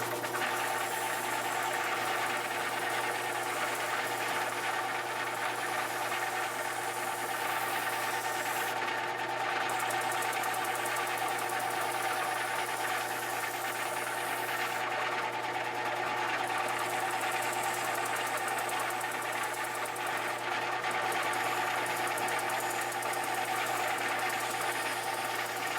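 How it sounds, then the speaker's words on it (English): A disc sander runs with a steady, droning motor whir that never lets up, with a few brief brighter bursts as a wooden guitar neck is pressed to it. "Just going to kiss that pencil line on the edge of the sanding disc."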